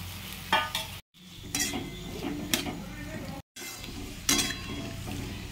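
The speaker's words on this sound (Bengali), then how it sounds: "এবারে ম্যারিনেট করা মাছটা দিয়ে দিচ্ছি" Marinated fish frying in spiced oil, a moderate sizzle with scraping and stirring strokes and a few clinks of utensil on pan, under quiet intermittent talk.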